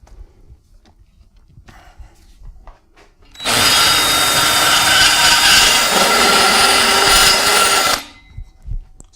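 Battery-powered power tool on a turbo Miata build running at full speed for about four and a half seconds, a loud steady whine that starts abruptly and cuts off, with quiet workshop sounds before and after.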